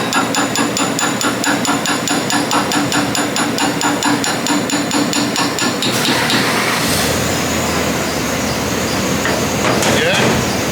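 Rapid, steady metallic hammering on the four-wheel-drive drivetrain of a twin-turbo LS all-wheel-drive Syclone truck keeps going loud and close, then gives way to rougher clanking and scraping.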